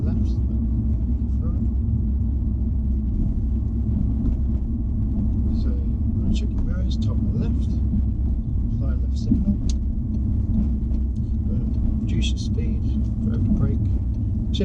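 A car driving slowly during a driving lesson, its engine giving a steady low rumble throughout, with faint rattles and clicks from the cabin and no other sound rising above it.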